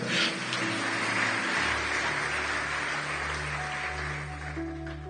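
A church congregation applauding the Lord, steady dense clapping from many hands sustained throughout, with a low organ-like tone rising beneath it partway through.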